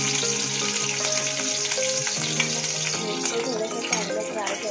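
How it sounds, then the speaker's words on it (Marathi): Green chilies fry in hot oil for a potato fasting dish, producing a continuous, even sizzle that stays loud and steady throughout, with a faint tonal background underneath. "तर सर्वात पहिला आपण तेलामध्ये मिरची टाकून घेऊया।"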